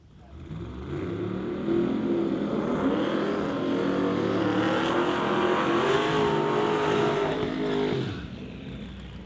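Outlaw 275 class drag race cars, including a Fox Body Mustang, roar loudly through a qualifying run at Mission Raceway, a sustained heavy engine howl that holds for several seconds before dropping away.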